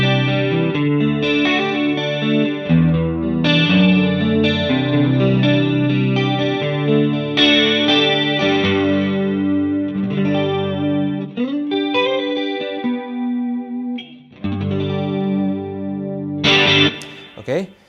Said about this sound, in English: So now I get a nice chorus sound.